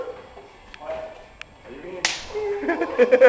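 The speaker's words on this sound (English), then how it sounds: "We're trying to slap the hiccups out of it." A sharp slap lands on a person to stop hiccups, one crisp crack in the middle, with faint ticks before it and voices and commotion after.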